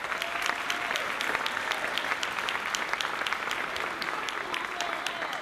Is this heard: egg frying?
no